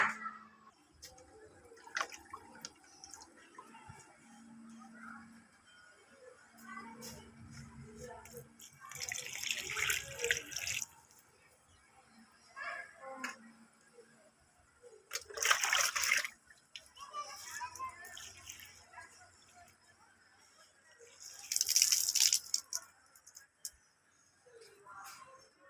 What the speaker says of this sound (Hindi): और सारे गमलों में ना पानी डाल दूँगी